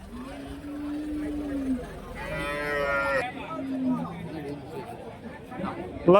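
Cattle, including a black bullock, at a large Friday cow market in Kundarapalli, Krishnagiri, moo several times up close amid crowd chatter and people talking.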